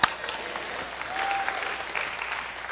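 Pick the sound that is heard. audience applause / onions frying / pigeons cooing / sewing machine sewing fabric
audience applause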